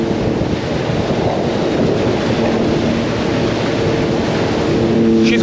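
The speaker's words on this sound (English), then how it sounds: "The wind is relentless." Relentless wind roaring across the microphone while riding a Sea-Doo on open water, a steady loud buffeting rush with engine and water noise underneath throughout.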